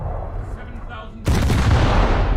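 Naval artillery shells fired in a World of Warships-style game: after a muffled stretch with a voice, a sudden heavy boom erupts and rolls on as a loud, sustained rumbling blast.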